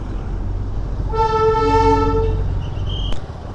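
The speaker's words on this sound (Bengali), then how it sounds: "এখানে টয় ট্রেনের ইঞ্জিন" The Darjeeling toy train engine at Ghum station sounds a single long, loud whistle over a low mechanical rumble, ending with a short sharp toot, no talk.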